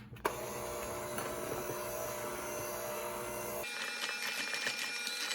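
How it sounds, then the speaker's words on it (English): Electric mixer on a low to medium speed combining buttercream frosting for lemon cookies, a steady whirring motor hum that cuts to a thinner, rattling whir partway through, close and without talk. "we're just gonna use our electric mixer, and we're just going to mix it on a low to medium speed until it's well combined"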